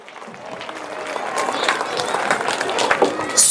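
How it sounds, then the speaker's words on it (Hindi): Applause from a school audience cheering a children's cultural program, a dense continuous clatter of many clapping hands that swells slightly and stays steady throughout, with crowd noise underneath. "एक बार इन बच्चों के लिए फिर दोबारा से तालियां बजाएं।"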